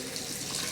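Water pours steadily from a tap into a fish tank being filled, a continuous close, splashing rush with no pauses.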